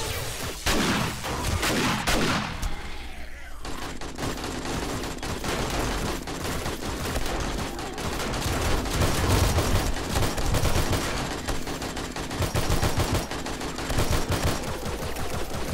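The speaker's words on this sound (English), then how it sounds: "So I got the P225 because it's such a rapid fire." Rapid P225 pistol fire in 7 Days to Die, sounding as dense, continuous bursts of shots that last nearly the whole stretch. There is a brief lull early on, and the firing is loud and close.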